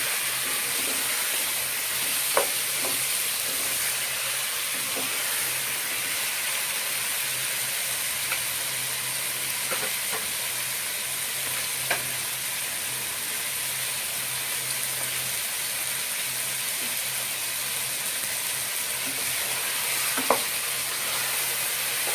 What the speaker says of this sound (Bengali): আবার নাড়বো। এইভাবে কিছুক্ষণ নাড়াচাড়া করতে হবে।